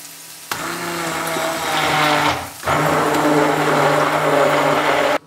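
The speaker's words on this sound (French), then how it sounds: "On va pouvoir maintenant les passer au mixeur." A blender whirs loudly and steadily as it purées cooked leek and potato soup in a kitchen. It stops for a short moment partway through, then runs again until it cuts off.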